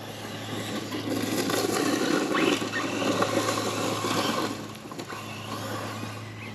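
Hobao Hyper VS2 1/8-scale RC buggy driving, a continuous buzzing motor whine with gravelly tire scrape and patter, sustained at moderate distance with a slight dip near the end.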